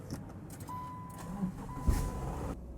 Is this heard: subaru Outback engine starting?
yes